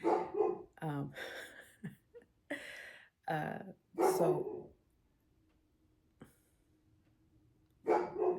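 A dog barks in short, sharp bursts close by, several quick yaps in a row with a voice talking between them in a quiet room.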